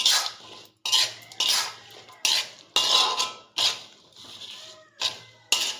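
A spoon scraping and clinking against a metal pan while masala powder is stirred into chicken pickle, in repeated bursts about every half second to second with brief quiet gaps between strokes.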